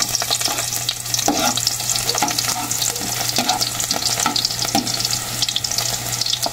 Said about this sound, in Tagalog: Yan, lalagay na po yung bawang.